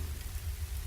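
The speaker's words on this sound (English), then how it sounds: "It's raining as well." Steady rain from the game Chronology, a dense, even wash of falling drops with a deep low rumble beneath, heard alone without voices.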